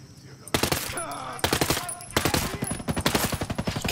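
Bursts of rapid automatic gunfire in the video game Ghost Recon Breakpoint crackle in quick repeated volleys, sharp and punchy, with brief pauses between them.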